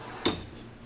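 A kitchen drawer on ball bearing guides in a Quailridge 40CKFFL park model RV shuts with a single short clack, then falls quiet.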